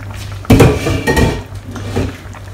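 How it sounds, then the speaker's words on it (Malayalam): A metal lid lifted off a pot of simmering Kerala fish molee, a loud clattering clank followed by a second scrape and a softer knock, close by with no talking. "അപ്പോൾ നമുക്ക് മൂടി തുറന്ന്"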